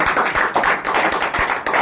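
Attendees at an IMC business meeting in Badagaon clap together, a loud, close patter of hand claps with some sharper individual smacks standing out, no talking.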